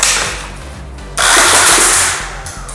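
A QBZ-95 toy dart blaster rifle fires from the hip, a loud, close, roughly one-second burst of rapid mechanical bursts over a running motor hum, with no talking.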